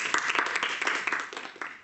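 An audience at a primary school public speaking contest applauds for a student, a short, fairly faint patter of clapping from a modest crowd.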